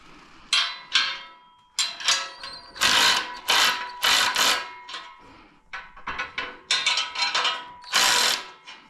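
A ratchet loosens a stuck garage shop press in a run of loud, close clicking bursts, each a quick train of metallic pawl clicks separated by short pauses, with no talking.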